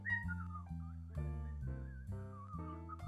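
Someone whistles a melodic tune, clear and close, with a steady low accompaniment underneath and no talking.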